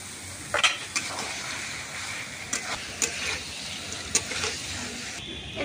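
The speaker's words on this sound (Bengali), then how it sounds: "আলু আমি ভালো করে মশলার সাথে কষিয়ে নিয়েছি" Potato and jackfruit frying in a spiced pan, with a steady sizzle and stirring scrapes and clinks of a utensil against the pan.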